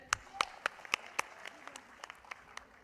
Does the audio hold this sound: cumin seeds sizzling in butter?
no